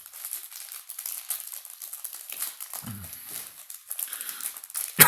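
A crinkly KitKat wrapper is worked open in close-up with irregular rustles and crinkles. A soft thud comes midway and a louder crackle at the end.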